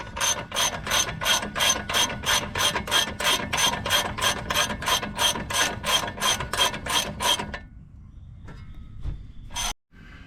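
A hand ratchet clicks rapidly and evenly, loosening the caliper mounting bracket bolts on a 2009 Hemi Ram 1500 2WD during a front wheel hub replacement, close and loud, then stops abruptly into near silence with one sharp knock.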